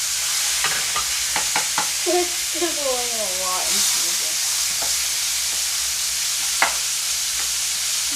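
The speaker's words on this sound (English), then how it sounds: "Take that thing and start chopping it up and browning that meat" Ground beef sizzles and hisses steadily in a pan as it is chopped and browned for sloppy joes, with scraping clicks of the utensil against the pan and brief talk over the frying.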